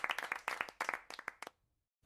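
Cartoon sound effect of a teacher clapping: a quick run of crisp, separate hand claps that stops abruptly, followed by near silence.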